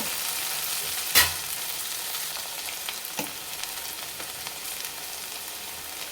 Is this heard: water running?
no